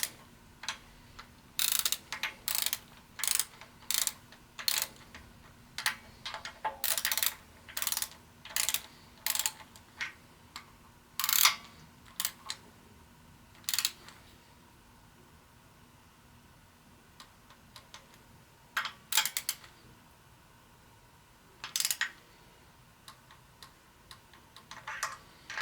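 A torque wrench ratchets in bursts of quick clicks while tightening bolts to 15 foot-pounds on a Ford 172 ci engine during water pump and thermostat installation, close and clear with short pauses between runs and no talk.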